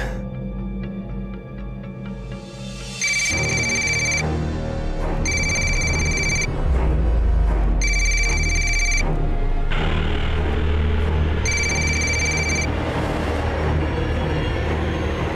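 A telephone rings in repeated bursts, four evenly spaced trills over about ten seconds, loud and close against a steady low rumble of background noise.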